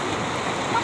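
Flowing water of the Lisap River rushes steadily in a brief, moderately loud burst of broadband splashing and gurgling, close by with no voices.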